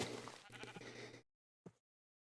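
A Minecraft sheep bleats loudly and close for over a second, then a shorter, fainter bleat follows after a brief silence.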